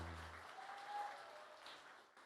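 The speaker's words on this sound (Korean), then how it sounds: "박수 부탁드리겠습니다" Audience applause after a school band performance at an education festival event, a steady wash of clapping with a faint sustained tone, moderately loud and continuing throughout without talk.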